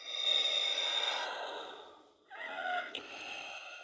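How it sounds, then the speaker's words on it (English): A Hasbro Star Wars Black Series Darth Vader helmet plays its electronic breathing effect, a slow, labored inhale and exhale hiss with a brief pause between, close and fairly quiet, with no talking. "it's like his laboured breathing at the end of Return of the Jedi"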